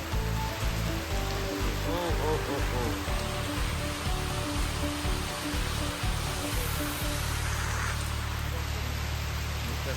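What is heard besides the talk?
heavy rain falling in Bangalore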